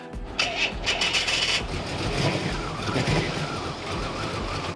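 A 1992 Pontiac built as the KITT car from Knight Rider cranks and starts, its engine catching after a brief whir and settling into a steady, close idle.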